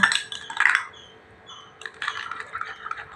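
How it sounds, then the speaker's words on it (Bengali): A utensil scrapes and clinks against a bowl while a white paste paint mixture is slowly stirred, light rhythmic scraping close by with no talking. "এভাবে সুন্দর করে আস্তে আস্তে মিশ্রণটিকে খুব ভালোভাবে মিশিয়ে নিতে হবে"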